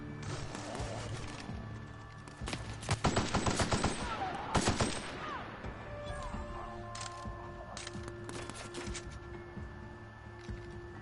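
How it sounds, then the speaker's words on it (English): Enemy gunfire in a shooter game, a burst of rapid automatic shots and sharp single cracks that swell loudly in the middle, then trail off into sporadic shots over a low background hum. "Who else is shooting at me?"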